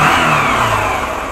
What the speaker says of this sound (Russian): моторчик у нас работает